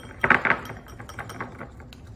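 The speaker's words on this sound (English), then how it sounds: "this is our dressing, so you're just gonna wanna kind of whisk it up." A whisk clinks quickly against a bowl while mixing an oil dressing for potato salad, a short burst of light rapid taps that fade to softer scattered clicks.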